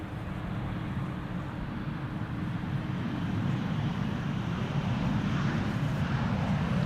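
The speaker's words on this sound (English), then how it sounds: "This KLM 737 has journeyed from Geneva back to Amsterdam. Gently touching down." A KLM Boeing 737 airliner touching down at Amsterdam Schiphol, its steady broad jet roar distant and even, swelling slightly as it lands, with no voices.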